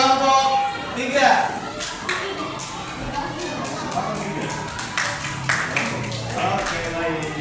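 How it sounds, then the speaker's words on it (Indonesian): Classroom students clapping for a group of classmates, scattered uneven claps and taps from a small crowd, fairly quiet and mixed with talk and shuffling. "Oke, beri tepuk tangan untuk kelompok 3."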